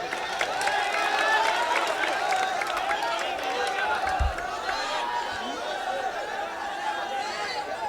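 Crowd at an All India Mushaira in Malegaon clapping for a named guest, a sustained wash of applause mixed with chatter and some laughter, fairly steady and slightly fading toward the end.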